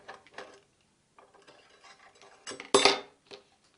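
Screws being removed from an external hard drive enclosure, with faint small metallic clicks and scraping taps, then one louder rattling clack near the end, in a quiet room.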